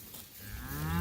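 Cattle mooing in a soft, muddy winter pasture, one long low moo swelling from quiet to loud and close by, with no talk over it.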